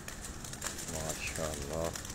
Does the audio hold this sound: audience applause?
no